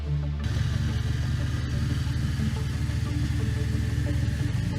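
A Harley-Davidson X440 motorcycle engine running close by, a loud, steady, throbbing single-cylinder idle with a dense low rumble and mechanical clatter that holds evenly throughout.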